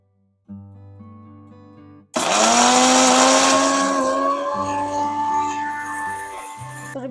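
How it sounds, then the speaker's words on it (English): A kitchen blender or mixer grinds homemade sambar podi spices, starting after a brief lower hum with an abrupt loud whirring roar that stays strong and gradually eases, close and dominant. "blend this again now."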